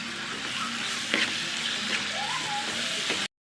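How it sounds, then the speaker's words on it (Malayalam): Tomato paste being stirred into a sizzling chicken curry base in a pan, a steady soft frying hiss with occasional spoon scrapes, close and fairly quiet. "ഇനി നമുക്ക് തക്കാളി പേസ്റ്റാക്കി വെച്ചേക്കുന്ന ഇളക്കി കൊടുക്കാം"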